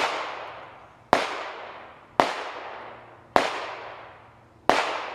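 A Ruger SR45 pistol fires at a shooting range. Four loud, sharp gunshots come at roughly one-second intervals, and each one rings out in a long decaying echo.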